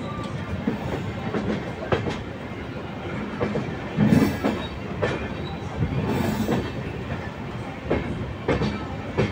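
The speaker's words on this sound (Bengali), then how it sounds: "গাইস ফিল করুন এই ট্র্যাক সাউন্ডটাকে।" The Howrah Balurghat Express runs along the track, with rumbling wheel noise and repeated clickety-clack beats over rail joints, loud and close from inside the train, with no talking.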